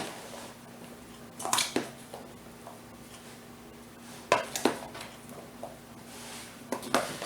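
Potatoes, broccoli, ham and cheese get stirred in a casserole dish: a few bursts of soft squishing and utensil clinks against the dish between quiet pauses.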